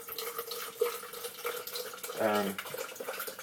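Water from a tap runs into a container for a pre-workout protein shake with creatine and glutamine, a short pour rising in pitch as it fills, close by and moderately loud.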